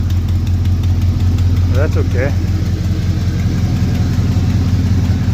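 Steady loud rumble of an old truck engine idling with an exhaust leak near the header, a continuous low drone throughout with someone briefly speaking over it.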